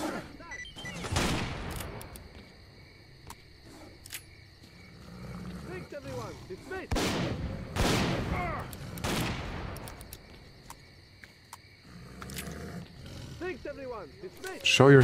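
Several heavy booming shotgun blasts from a pocket cannon in a Ukrainian video game, each with a long roaring tail, spaced a few seconds apart, with a voice talking between them.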